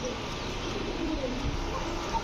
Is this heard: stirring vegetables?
no